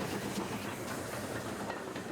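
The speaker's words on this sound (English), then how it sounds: "4588 ambles along the branch approaching Ashburton with one of two special trains that ran" Locomotive 4588 hauls a special train along the Ashburton branch line, a quiet, distant rumble of wheels with soft clickety-clack running steadily throughout.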